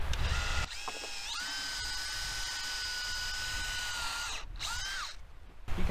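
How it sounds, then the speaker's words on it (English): A power drill drives a screw during yurt footer work, a steady whining motor run lasting several seconds, close and loud, with a brief dip and restart near the end and no talk. "let me find a spot to send a screw that way"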